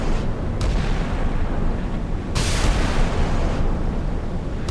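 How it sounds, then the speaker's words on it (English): Naval 5-inch guns boom in the game Sea Power as a Dutch De Zeven Provinciën frigate and an Australian Anzac frigate exchange fire. A dense, continuous roar carries heavier blasts standing out every few seconds. "Exchanging 5-inch rounds."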